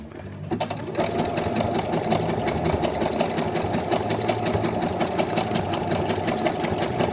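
A sewing machine runs steadily and loudly at speed, stitching stretch bra fabric with a standard needle, its rapid mechanical chatter continuous and close with no talk over it.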